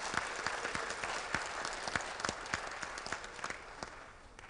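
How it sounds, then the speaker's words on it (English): Sustained audience applause at a fraternity regional public program, a dense wash of many hands clapping with a few sharper claps standing out, steady throughout and easing slightly at the end. "Give him a round of applause."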